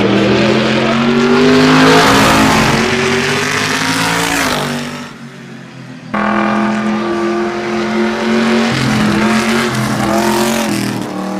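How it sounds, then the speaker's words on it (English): A modified race car, the number 134 hot rod, roars around a track, its engine loud and sustained, rising and falling as it laps, briefly dropping away before surging back. "he's going to take a few laps in this 134 car"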